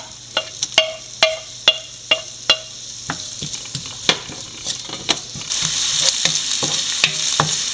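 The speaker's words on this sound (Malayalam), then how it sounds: "സവോള വഴന്നു വന്നിട്ടുണ്ട് അതിലോട്ട് ഇഞ്ചിയും വെളുത്തുള്ളി ഇട്ട് കൊടുക്കാം" Onion, ginger and garlic sautéing in a pan: a run of regular, crisp spoon strikes against the pan, then a louder, fuller sizzle with a few stirring knocks, close and clear.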